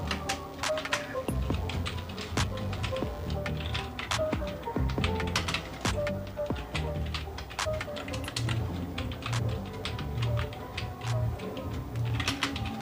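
Personal details are typed into MS Word on a computer keyboard, a quiet, continuous run of close key clicks and taps with short pauses throughout, with no speech.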